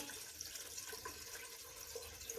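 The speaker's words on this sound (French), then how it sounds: "Je vais prendre encore un peu plus d'eau" Cold water is poured into a pot of Moroccan harira soup, making a continuous, even rushing splash with no pauses, faint and close.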